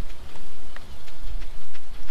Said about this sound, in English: Just listening to the rain.